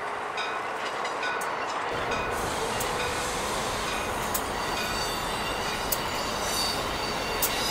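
An ACS-64 electric locomotive pushing a passenger train roars steadily along the rails, with a loud broadband rush, faint wheel squeal and occasional clicks, no voices.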